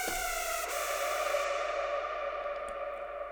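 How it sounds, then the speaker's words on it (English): A sustained Space Ghost synth pad drenched in reverb, holding bright layered tones with a soft transient near the start and a tail that darkens as the highs fade. "so we're gonna have to start with this Space Ghost synth first"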